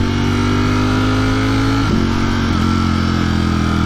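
A motorcycle engine chugs at low revs close by, a loud, rough, steady rumble with slight dips in pitch as the throttle shifts.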